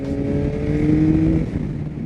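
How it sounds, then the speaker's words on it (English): A 2022 Yamaha XSR900 motorcycle engine gives a steady, close induction growl with sustained low tones that rise slightly before settling. "I love the sounds this bike makes. A lot more induction noise than the last generation of this engine."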